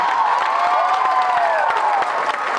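Concert crowd at the Beacon Theatre applauding the bassist during a show: loud, sustained cheering with whistles and woops above a wash of clapping.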